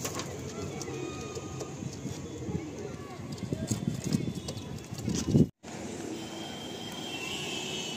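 A pair of Madrasi pigeons is released, with a burst of wing flaps and rustling building near the microphone before a brief dropout. Someone talks throughout.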